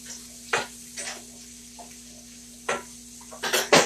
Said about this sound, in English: It gets those onions sauteed really good.